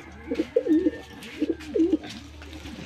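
Pigeons cooing nearby in two soft, throaty phrases, with faint background noise and no talking.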